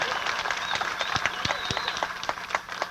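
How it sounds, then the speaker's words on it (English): An audience at an outdoor bluegrass show applauds a performer in a thin, distant-sounding patter with a few sharper individual claps standing out, and a voice comes through over it. "Nice round of applause."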